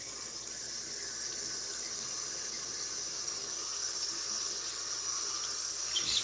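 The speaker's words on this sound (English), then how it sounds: "rinsing off my washcloth over here." A washcloth is rinsed under a running tap, giving a steady, continuous hiss of flowing water that holds evenly throughout, close by, with no talking.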